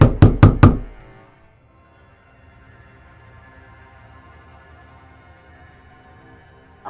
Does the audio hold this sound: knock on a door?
yes